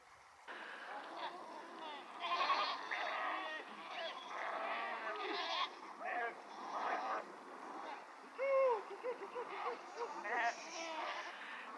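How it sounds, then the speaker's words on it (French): Herd of goats bleating repeatedly across a river crossing in Mongolia, several overlapping calls at moderate distance, mixed with people's voices and splashing. "le but étant de faire traverser les chèvres"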